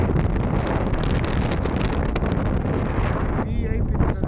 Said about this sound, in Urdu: بہت ٹھنڈی ہوا چلی ہوئی ہے